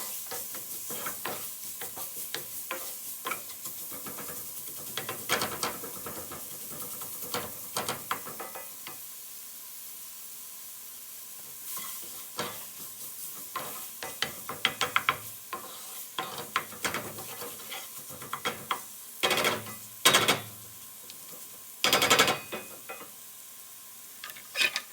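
Onions frying with bacon bits in a blonde roux for creamy shrimp soup, a continuous sizzle broken by repeated scraping, stirring strokes of a utensil against the pot, close and fairly loud.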